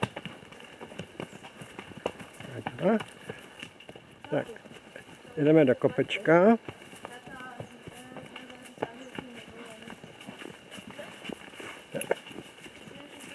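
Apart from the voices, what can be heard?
horses walking in a forest, hooves clip-clopping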